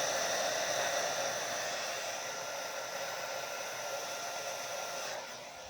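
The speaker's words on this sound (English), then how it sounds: "Let's get the blow dryer" Handheld blow dryer running while drying hair in a salon styling session, a steady loud whooshing hiss of air that holds constant for several seconds before dropping slightly at the end, with no talking.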